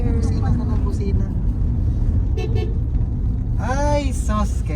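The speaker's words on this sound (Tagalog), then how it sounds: "Busina ka ng busina." Inside a van on a road trip toward Manila, a car horn toots in a couple of short honks near the end, heard over road rumble while people talk.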